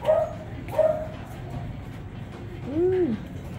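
American Bully dogs let out a few short yelps and a rising, wavering howl, with a steady low rumble of background noise throughout.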